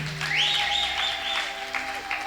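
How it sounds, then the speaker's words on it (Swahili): A church congregation claps and ululates in praise, a burst of dense applause with a high, wavering trilling cry rising over it, brief and lively. "Pe Yesu makofi na vigeregere."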